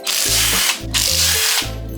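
A powered tool rattles as it breaks loose the cover bolts on a Kawasaki KLX 140 dirt bike, giving two loud, close bursts of buzzing mechanical hammering separated by a short pause.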